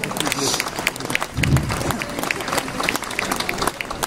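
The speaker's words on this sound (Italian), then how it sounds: "un applauso al sindaco Marrigo" An audience at an outdoor-style concert in Lenola applauds the mayor, a dense, continuous patter of clapping that carries on while a voice speaks over it and a low rumble swells briefly midway.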